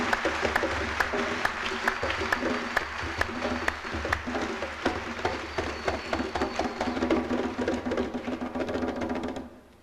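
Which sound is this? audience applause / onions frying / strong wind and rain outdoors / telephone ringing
audience applause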